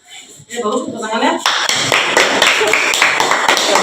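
A group of children claps their hands in a classroom, starting as scattered claps under voices and swelling into a burst of fast, loud applause.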